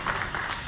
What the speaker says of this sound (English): Clap for her, give her some encouragement